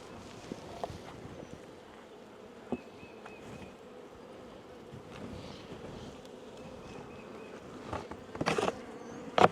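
Honey bees buzzing at the hive in a soft, steady drone, with occasional nearer bees flying past and faint wind in the microphone.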